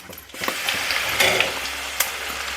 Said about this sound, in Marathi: आता जिरं मोहरी टाकतो. हे भाजून घेतो.